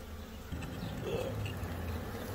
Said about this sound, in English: Before you know it, you get stung by bees.